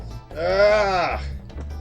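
Sheep bleats from the Spyro the Dragon video game: one drawn-out, wavering baa lasting about a second, loud and close, over steady low game background hum.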